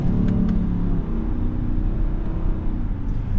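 A 2025 Subaru Ascent Touring's new engine hums and rumbles steadily from inside the cabin, with a slight rise in revs as it shifts through gears, no talking.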